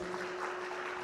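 Audience applause for panelists at the close of an education conference session: a brief burst of hand clapping from the room, moderately loud, with a steady hum underneath.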